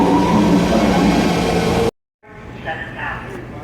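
A steady, loud rail rumble fills a San Francisco train station, then cuts off abruptly and gives way to quieter station ambience with people talking nearby.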